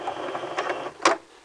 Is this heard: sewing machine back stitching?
yes